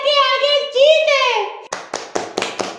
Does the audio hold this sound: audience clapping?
yes